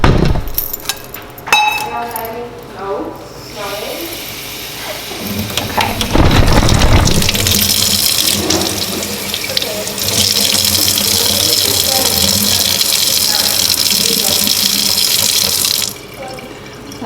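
Running water pours steadily into a semi-hydro planter holding a money plant for several seconds with a splashing, rushing flow, after some brief clinking and handling sounds at the start.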